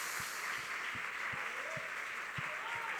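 Steady applause from a church congregation during a Portuguese-language service, fairly distant and even, with a low rhythmic thumping underneath.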